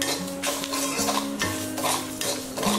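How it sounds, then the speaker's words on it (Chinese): Salt stir-fried dry in a hot wok with Sichuan peppercorns, star anise and bay leaves, a continuous close gritty rustle and scrape with repeated strokes of the spatula against the pan. "把盐炒至微黄就可以"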